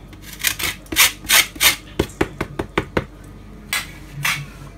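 Citrus zest rasps against a metal grater for coconut-banana buns, a run of distinct scraping strokes, first slower and broader, then a quicker series of short sharp rubs, close and fairly quiet, no talking.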